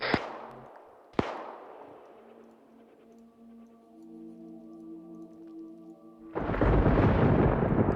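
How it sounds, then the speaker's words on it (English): Thunder in a military video game co-op mission: two sharp cracks early on, then a loud, broad rumbling roll near the end, with a quieter stretch of tonal sound between. "Maybe it's the thunder."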